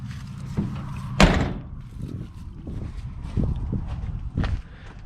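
A door on a Chevy C10 pickup truck shuts with one sharp, loud slam near the start, followed by softer thumps and shuffling movement nearby, with no talk.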